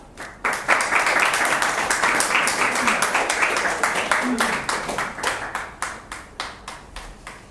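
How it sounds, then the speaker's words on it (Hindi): Loud applause from an audience at a poetry gathering welcomes poet Rajesh Raaz. The dense clapping swells quickly, holds for several seconds and then thins into scattered individual claps as it fades. "तो जोरदार तालियों के साथ स्वागत करते हैं राजेश राज जी का"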